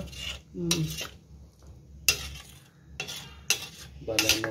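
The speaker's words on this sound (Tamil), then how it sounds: "போட்டு நல்லா அந்த குழம்பு கிளறி விடணும்" A spoon scrapes and clatters against a pot while chicken kurma gravy is stirred, several bursts of metallic scraping with brief quiet gaps, close and fairly quiet.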